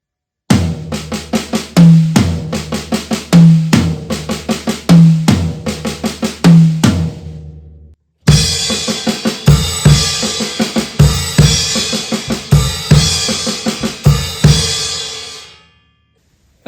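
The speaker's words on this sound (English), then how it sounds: "we're going to take our 6-stroke roll and we're going to place the accents, the single strokes, on the toms and also the cymbals" On a drum kit, a 6-stroke roll with accented single strokes falls on the toms, then on crashing cymbals backed by bass drum. Two loud phrases of quick rhythmic hits are separated by a short pause, and the cymbals ring out at the end.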